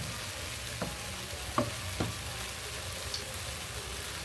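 Masala for a Bengali telkoi fish curry frying in oil in a pan, a steady soft hiss with a few sharp stirring scrapes and clicks scattered through, close and fairly quiet.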